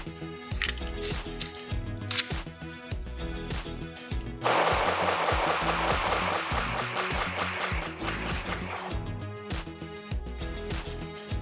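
A Glock pistol with a stock Vickers slide fires a long string of rapid shots, loud and close, sharp regular reports for several seconds with ringing echoes between them.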